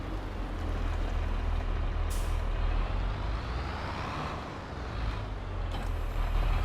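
A tractor in Farming Simulator 22 hooks up a new trailer over a loud, steady engine drone, with a short hiss of released air near the start and another near the end.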